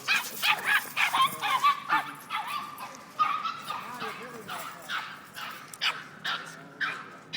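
A small dog barks and yips in quick bursts outside a federal building in Miami, going after a much larger person, with whimpers in between and people talking nearby.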